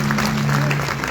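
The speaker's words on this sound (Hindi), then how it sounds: "बस इन्हीं तालियों को और बड़ा कर दीजिए।" An outdoor crowd at a patriotic poetry gathering claps in a continuous round of applause, with a steady low hum running underneath and a voice faintly present.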